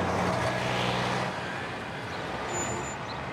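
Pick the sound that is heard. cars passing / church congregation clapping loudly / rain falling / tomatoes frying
cars passing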